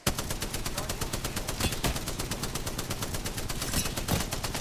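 Rapid automatic gunfire from Apex Legends during a ranked match, loud, continuous and close, with a fast steady rhythm of shots that barely lets up.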